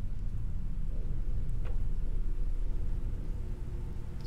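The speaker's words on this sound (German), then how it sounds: "Es regnet." Steady rain in the survival game Planet Crafter, a dense continuous hiss with low rumbling underneath, loud and even throughout with no voices.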